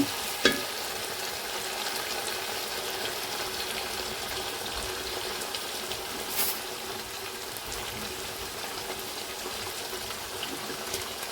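Green chillies fry in hot oil in a pan while cooking ulavacharu chicken biryani, making a continuous moderate sizzle and crackle with a sharp clink near the start and no speech.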